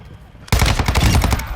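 Loud automatic gunfire from Call of Duty: Modern Warfare II erupts suddenly after a quiet lull, a dense stream of rapid, sharp shots that continues without pause to the end.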